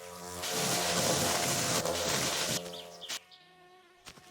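Wasps in the driving game My Summer Car drone in a loud, close, steady insect buzz for a few seconds, then cut off into a few sharp clicks and thumps.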